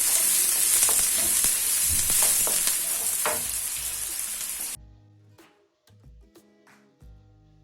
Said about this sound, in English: Cook your onions for like 2 minutes before you go in with your garlic and ginger.